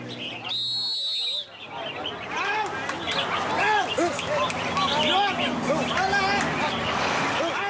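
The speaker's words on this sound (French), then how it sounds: "les pêcheurs se détendent en participant à un concours de chant d'oiseaux très populaire dans le sud" Caged songbirds compete in a popular bird singing contest in southern Thailand, many chirping and trilling at once against steady road noise and a crowd of people talking.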